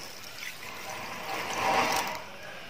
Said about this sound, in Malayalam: ആദ്യം 1 കപ്പ് വെള്ളം ഞാൻ അതിലോട്ട് ഒഴിക്കുന്നുണ്ട്.